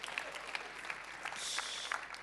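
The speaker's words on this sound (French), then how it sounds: "que je vous laisse applaudir" An audience applauds an award winner at a ranking event for ecological-impact startups. The clapping is brisk and continuous, swelling slightly midway, with no talk over it.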